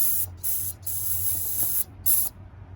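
A Freeze Off penetrating oil spray can hisses onto Ford F-250 radiator fittings in a long, nearly steady burst with brief breaks, followed by a shorter final spurt, close and loud.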